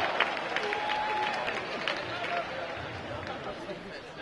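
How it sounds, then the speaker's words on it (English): Class day audience gives a round of applause, with scattered claps and cheering mixed with crowd chatter and a voice, thinning out toward the end. "And round of applause for the weather"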